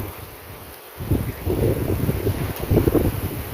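Steady wind roars and buffets outdoors, a broad gusty rush that swells after a quiet moment and stays loud throughout.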